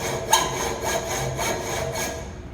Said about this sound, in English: When you're using a hacksaw, it's all on the push stroke.